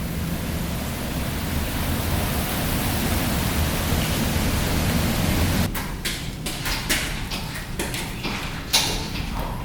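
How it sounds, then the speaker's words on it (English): Storm rain pours down outdoors beside a jet ski under repair, first a steady, dense hiss, then shifting into an uneven patter of louder drops and splashes in the last few seconds. "Alright, here comes the rain."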